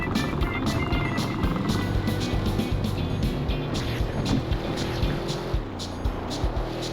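Car engine in the driving video game The Driver Syndicate, a continuous droning motor hum with steady low tones and slight pitch shifts, moderately loud and uninterrupted throughout.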